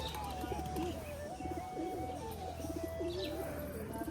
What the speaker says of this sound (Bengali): এই যে একটা ম্যাড্রাস মাদি পায়রা আর কি এই যে খুব বড় হয় পায়রাটা